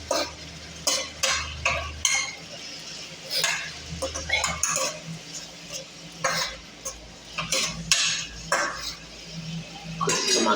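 A spoon stirs garlic into chicken liver frying in a pan, with repeated clinks and scrapes against the metal over a low sizzle. The sound is close and uneven, with no talking.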